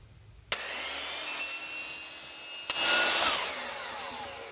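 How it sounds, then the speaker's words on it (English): A hand saw cuts through PVC pipe for a DIY giant nutcracker build, its steady rasping strokes close and loud after a sudden start, continuing alone without talk and growing slightly harsher near the end. "So let's go ahead and cut this PVC pipe."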